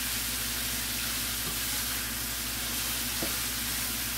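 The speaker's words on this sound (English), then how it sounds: "I like to saute my mushroom" Mushrooms sauté in a hot pan with a constant, soft, even sizzle and faint stirring scrapes, heard close up with no talking.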